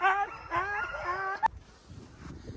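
Sled dogs bark and yelp in a quick, overlapping chorus on a snowy winter trail, loud and close at first, then thinning out into scattered fainter yips.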